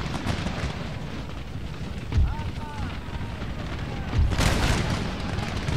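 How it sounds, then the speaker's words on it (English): Musket volley fire in the Empire Total War Mughal campaign: dull booming reports at about two and four seconds over a steady roar of battle ambience, with someone talking throughout. "I guess I'll let you fire through your volley"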